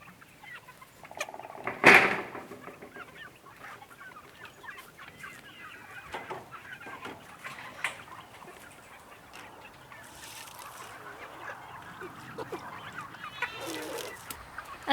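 Meat chickens in a homestead coop cluck and squawk nearby, with one loud call early on and softer clucking continuing throughout, no talk.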